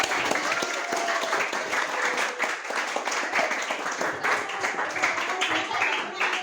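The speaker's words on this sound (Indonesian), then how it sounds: "Mari kita beri tepuk tangan untuk" A classroom of students claps steadily throughout, a dense, even patter of many hands close by, with no voices standing out.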